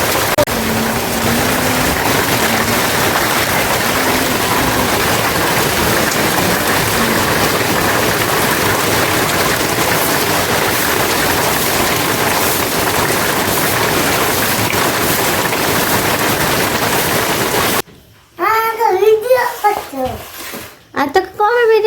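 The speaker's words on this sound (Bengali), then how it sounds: "দেখো কত বৃষ্টি হচ্ছে" Heavy rain pours down in a dense, steady hiss for most of the clip, then gives way to a nearby voice talking at the end.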